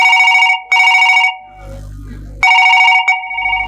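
A telephone bell rings loud and close in repeated double bursts, broken by a short pause with a low hum beneath.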